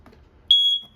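A single sharp, high-pitched electronic beep from a smoke alarm inside a 2022 Forest River Avenger 26DBSLE travel trailer sounds close by, lasting under half a second.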